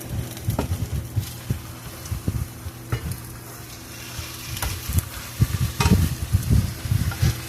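Eggs fry over moderate heat in a pan with a soft, steady sizzle, broken by intermittent scraping and tapping from a utensil.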